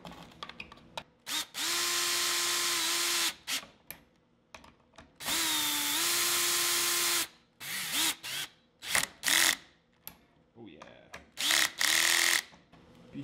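Machine screws being driven into a freestyle skateboard skid plate with a power drill, several whirring bursts of a few seconds each, pitch dipping under load, then shorter stop-start pulses and clicks, close and loud.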